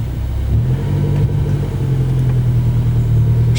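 Mini Cooper S Coupé engine pulling away from close inside, a deep rumbling note that rises as the revs climb and then holds a steady, strong drone.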